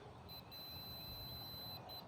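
A multimeter on its continuity setting gives a steady high-pitched beep while testing a fuse in a gas pack unit, broken by two short gaps, faint over a low background hum.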